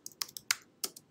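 Keys clack on a computer keyboard as a short command is typed, six or so crisp, close clicks in an uneven rhythm with no voices.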